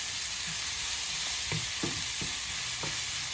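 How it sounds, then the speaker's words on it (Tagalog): Pork sautéing with ground pepper in a pan for Bicol Express gives off a loud, steady sizzle, with a few soft scraping stirs of the spatula near the middle. "So, i-saute natin ng ganito."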